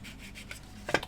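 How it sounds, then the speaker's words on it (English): A small dry sanding pad rubs lightly over a painted scale model to take off acrylic overspray, giving soft, brief scratchy strokes that end in a sharper, louder rasp near the close. "if I get my little bit of sander, just don't use it wet"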